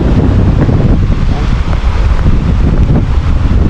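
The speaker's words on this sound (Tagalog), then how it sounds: "Lakas ng hangin at ulan" Strong wind roars and buffets the microphone continuously, loud and rumbling, with a faint hint of a voice beneath, during wind and rain by the sea.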